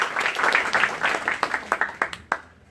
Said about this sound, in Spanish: vamos a dar una vez más unas palmas por esta presentación, ¿no? de este Cristian